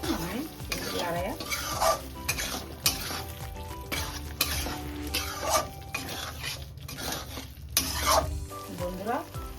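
Aloo posto, potatoes in poppy seed paste with a spoonful of sugar, is stirred in a pan: a steady sizzle broken by repeated scraping strokes and utensil clinks against the pan, with a voice faintly in the background.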